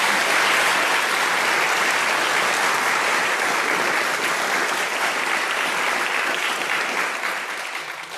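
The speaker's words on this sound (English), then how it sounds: "Can we all give them a round of applause for coming?" An audience at a social prescribing show claps steadily in a sustained round of applause, dense and even throughout, fading slightly toward the end.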